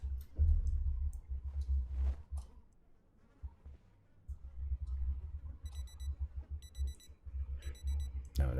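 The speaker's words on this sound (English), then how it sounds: "No, that's my alarm." A wristwatch alarm beeps in short, quick, repeated bursts, faint and high, over low rumbling background sounds.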